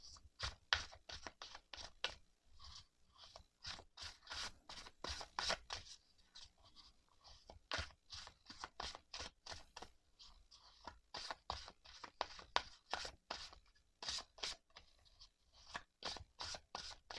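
A tarot card deck being shuffled, with rapid bursts of riffling and scratching card noise repeating in an uneven rhythm, close and quiet with no talking.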